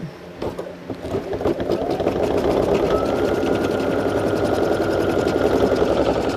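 A Brother SE1900 embroidery machine stitching a hat starts up and settles into a fast, steady mechanical chatter of rapid needle strokes, close and continuous, with no one talking.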